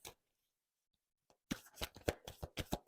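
Tarot cards are shuffled and drawn from the deck after a near-silent pause, heard as a close burst of quick riffling and slapping card sounds.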